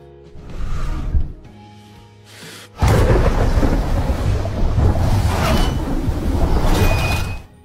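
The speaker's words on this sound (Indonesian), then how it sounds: "Cuaca yang buruk dengan angin kencang disertai hujan petir dan gelombang laut yang tinggi membuat kapal tersebut" A thunderstorm at sea with strong wind, rain and high waves: a faint rumble first, then from about three seconds a loud, sustained roar of wind and heavy rain with thunder rolling through it.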